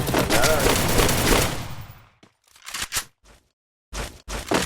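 Rapid bursts of gunfire in a mobile shooter video game, a dense loud volley at first that breaks into scattered short cracks separated by silent gaps, with faint voices mixed in.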